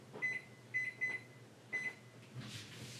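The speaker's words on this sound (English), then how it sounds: "I forgot to set a timer. Let me put a timer on." A kitchen timer beeps four times in short, clipped electronic tones while being set during vegan Caesar salad prep, quiet and close, followed by a soft rustle.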